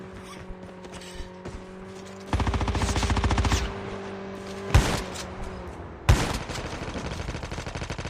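Sniper and automatic gunfire in a Call of Duty League championship match: a dense rattling burst of rapid shots, then a sharp single crack and another heavy volley, over a steady hum of game ambience with no talk.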